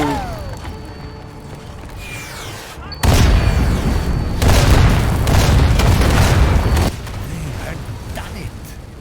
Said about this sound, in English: The captured artillery destroyed the tank and bought us another chance.